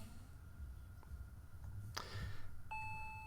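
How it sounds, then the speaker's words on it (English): A faint electronic chime sounds near the end, a clear sustained two-tone video game doorbell ring in Higurashi over a low background hum, preceded by a few soft clicks. "The doorbell rang again."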